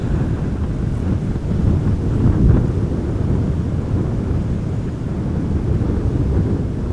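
Wake turbulence from aircraft at Amsterdam Schiphol Airport buffets an outdoor microphone, producing loud, continuous low rumbling wind noise that swells gently around the middle and never lets up.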